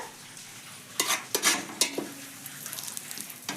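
Bay leaves dropped into hot ghee in a pan while making pea pulao: a few sharp sizzling spits and clinks from stirring, then a quieter steady crackle of frying, close and alone.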